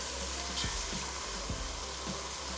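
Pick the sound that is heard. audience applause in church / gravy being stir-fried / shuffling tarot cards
gravy being stir-fried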